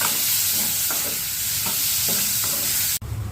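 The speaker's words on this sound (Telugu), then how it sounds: "ఉల్లిపాయ వేస్తున్నా. టమాటా వేస్తున్నా." Onion and tomato fry for an egg curry, a steady close sizzle broken by a few regular scraping stirs before a sharp clunk near the end.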